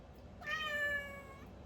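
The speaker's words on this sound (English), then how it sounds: "Every time I pick her up, meow." A pet cat named Twilight gives a single drawn-out meow while being picked up, close but soft against a quiet room.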